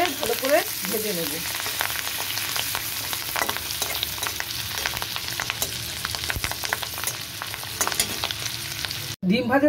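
Eggs frying in oil left over from frying potatoes for a Bengali fish-and-egg bora curry, a steady close sizzle with faint stirring clicks throughout and a brief pause near the end.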